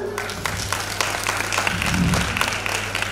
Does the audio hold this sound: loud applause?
yes